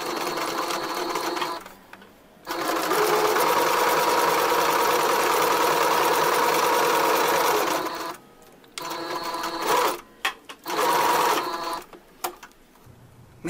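A sewing machine runs close up, topstitching a seam on school trousers in long continuous bursts with short pauses between, ending in a few brief stop-start runs.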